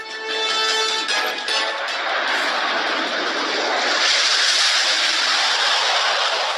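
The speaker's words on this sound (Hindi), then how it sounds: "आकाश में नजरें टिक जाएंगी जब 6 जैगुआर विमान बनाएंगे फॉर्मेशन" Six Jaguar jet aircraft fly in formation over a Republic Day parade in Delhi, a loud, sustained roar that swells and holds steady throughout with no voices.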